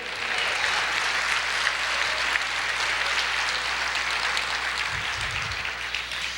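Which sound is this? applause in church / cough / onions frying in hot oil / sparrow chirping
applause in church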